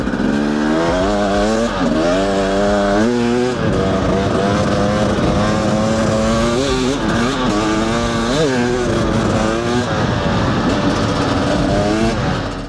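A carbureted 300 motorcycle engine revs repeatedly through its power band, pitch climbing and dropping in a series of sharp, buzzy surges, loud and close with no pause.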